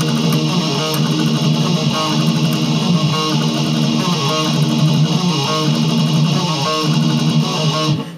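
Heavily distorted electric guitar plays a fast outro riff, a dense, driving stream of quick chugging notes at a constant loud level for about eight seconds.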